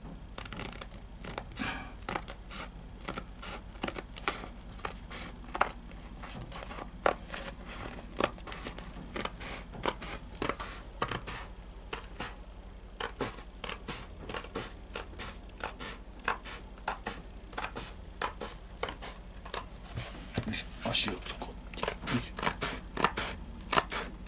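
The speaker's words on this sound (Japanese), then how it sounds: "ハサミで、" Scissors cutting through replacement wallpaper during a DIY repair of a damaged wall in a vacant house, a long run of crisp, rapid snipping strokes close by at an uneven rhythm, with no talking.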